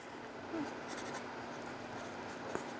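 A fountain pen fitted with a Yowo nib writes on paper in a quiet room, giving soft, faint scratching strokes at close range with small gaps between them and one sharp tap near the end.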